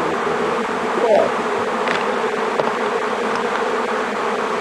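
A swarm of honeybees near a beehive hums in a steady, dense drone, loud and close, with individual bees briefly buzzing past over the constant hum.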